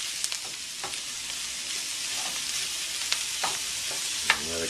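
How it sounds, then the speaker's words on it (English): Greens and bacon cooking in a pan and being stirred: a steady sizzle with scattered spoon scrapes and clicks, fairly quiet and close, with no talking. "So we're just going to stir that."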